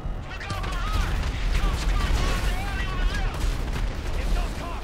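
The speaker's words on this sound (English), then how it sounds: "Oh, everyone's exploding each other." Chaotic GTA 5 rocket launcher explosions rumble continuously as dense, overlapping booms and crackling blasts, loud and sustained throughout, with voices shouting underneath.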